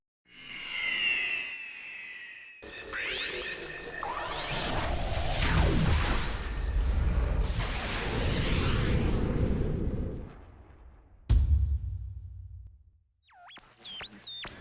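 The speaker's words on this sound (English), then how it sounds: "sound of the rocket" A rocket effect for a motion-graphics piece roars loudly for several seconds with rushing, swooshing bursts and deep rumble, then cuts off abruptly, a short burst following before fading out.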